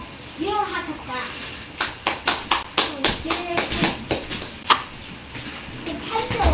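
Students clapping in a physics classroom, a short run of sharp, irregular claps and taps at close range, with a voice speaking briefly at the start.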